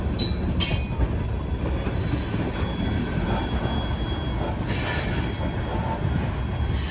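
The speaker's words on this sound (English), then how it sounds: "Got a heavy train." A heavy freight train of roughly two dozen loaded cars rolls past close by, its wheels squealing sharply over a steady rumble and clatter that fills the whole stretch.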